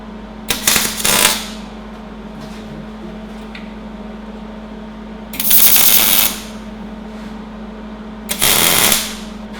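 Three short bursts of buzzing, crackling tack welds on a steel coffee table frame, each lasting about a second, separated by a steady background hum.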